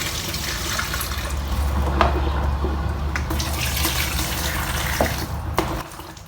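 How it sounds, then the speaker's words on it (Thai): Tap water runs steadily into a sink while something is rinsed under it to wash off sap: a continuous, fairly loud splashing flow with a few small knocks and no speech. "เดี๋ยวเราล้างน้ำก่อนเผื่อมันยังมียางอยู่"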